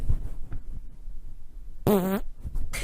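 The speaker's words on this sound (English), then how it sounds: "Like really nasty farts." A single short, loud, buzzy fart erupts from a girl about two-thirds of the way through, standing alone against a quiet background with a little faint breathing or movement around it.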